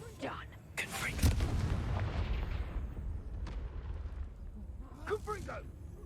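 Repeated Confringo blasting-spell explosions in the Hogwarts Legacy game, heavy booming bursts that roll into a sustained rumble, with a voice calling out between blasts.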